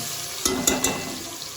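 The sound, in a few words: stirring crushed ginger and shallots in a pan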